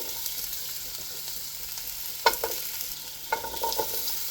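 Carrot pieces fry in a pan with a soft, steady sizzle, broken by a few sharp clicks and scrapes of stirring, close and fairly quiet.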